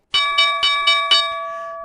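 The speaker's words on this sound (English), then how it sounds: "There is the closing bell," Stock market closing bell ringing in five quick, evenly spaced metallic strikes that then fade into a sustained ringing tone, loud and near with no talking.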